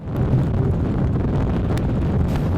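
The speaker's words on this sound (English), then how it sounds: "Conditions right now, it's probably 60 degrees, 15 to 20 mile per hour winds." Steady, strong wind of 15 to 20 miles per hour roars and buffets the microphone with low rumbling gusts, continuous throughout and with no voices.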